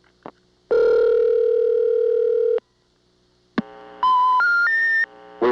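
A 1982 Siemens motor telephone switch in Ocala–Silver Springs, Florida, answers a dialed 121: a brief blip, then a loud, steady tone for about two seconds, a pause, and a stepped rising three-tone sequence.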